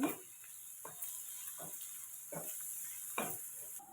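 Sliced onions fry lightly in a pan with turmeric, a steady close hiss and sizzle broken every second or so by scraping stirring strokes, with no talk.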